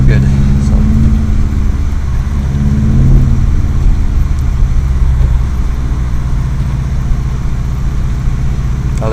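Subaru WRX STi engine droning steadily while driving through deep snow in a blizzard, a loud, low, continuous rumble close by with snow noise, and no talk.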